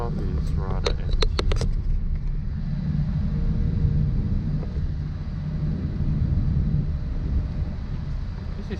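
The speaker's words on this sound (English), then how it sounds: "This is the new Singapore Airlines aircraft, the Boeing 787." Steady low engine rumble and air hiss fill the cabin of a nearly empty Singapore Airlines Boeing 787, constant and close throughout, with a few brief clicks and voice fragments near the start.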